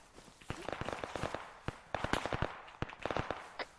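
Gunfire during military detachment training outdoors, a spread of sharp cracks from mid-distance in irregular clusters, some rapid strings, with quieter gaps between.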